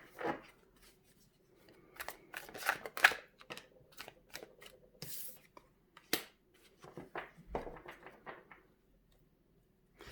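Tarot cards are shuffled and flop out onto a surface in scattered, irregular bursts of crisp riffling, slaps and light clicks, close and fairly quiet.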